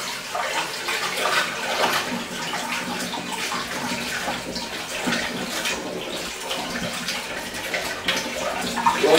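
Liquid pours steadily into a sterilized homebrew fermenter being filled with sweet gale gruit ale, a continuous close rushing splash with no talk.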